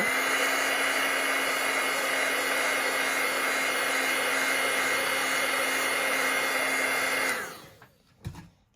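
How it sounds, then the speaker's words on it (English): Handheld craft heat tool blowing to dry stamped ink on cardstock, a steady close whine and rush of air for about seven seconds that then winds down and stops with a small click. "I'm just going to give it a quick zap with the heat tool."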